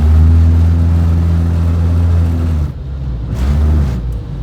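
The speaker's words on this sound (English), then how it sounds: "It happens every time I press the gas, and that's because my motor mounts are out." A Ford Focus with worn motor mounts revs its engine loudly close by, a deep droning hum with a shuddering vibration, then dips and rises again before easing off.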